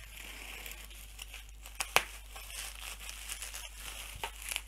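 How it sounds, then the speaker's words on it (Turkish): Plastic packaging bags crinkle as a Logitech G29 Driving Force steering wheel is unboxed, with quiet rustling and a few sharper crackles and snaps, close up and heard on their own. "Şöyle poşetlerinden bir kurtulalım."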